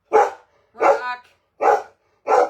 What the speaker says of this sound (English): The dog barking lowered the sound of you.